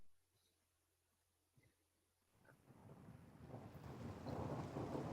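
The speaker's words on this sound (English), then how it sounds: "watching the storms come in" A backyard thunderstorm recording played back: near-silence at first, then a rolling rumble and rain-like hiss swell from about halfway through and keep building louder to the end, with no voices.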